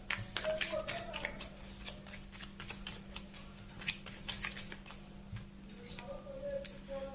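Tarot cards are drawn and laid out one by one during a Hindi money and career reading, giving soft, scattered card taps and light slides under a steady low hum, quiet and close.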